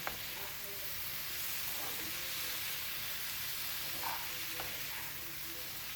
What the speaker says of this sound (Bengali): তারপরে দিয়ে দিচ্ছি ঢাঁড়সটা এবারে একটু নেড়ে চেড়েই নিয়ে নেব